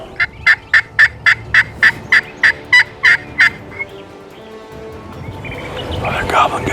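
Wild turkeys gobble in a field, a loud close run of about ten evenly spaced sharp calls over three seconds, fading into faint rustling and background noise.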